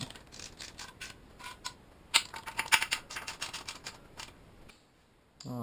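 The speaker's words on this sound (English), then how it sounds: "I'll just go through and torque all of these bolts." A wrench tightens the differential brace bolts on a first-generation Cadillac CTS-V, giving rapid, close ratcheting clicks in several bursts before a short pause.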